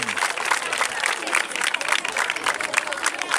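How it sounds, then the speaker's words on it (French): Colleagues applaud at a French-language ceremony near the close of the year's edition, after a donation of 100,000 francs for chalk is announced. Dense, steady clapping fills the room, with crowd noise mixed in. "Chers collègues, ça s'applaudit."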